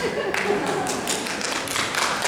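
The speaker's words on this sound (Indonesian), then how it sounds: "Tepuk tangan untuk kita semua." Audience at a law faculty Halal Bihalal gathering applauding, a steady wash of clapping throughout, with broadband taps filling the room at moderate level.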